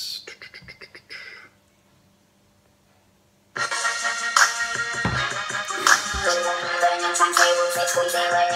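AutoRap app remix turning spoken times tables into a song: a brief stretch of sparse clicks fades to near silence, then a loud, dense rap-style backing track with steady beats kicks in and runs to the end.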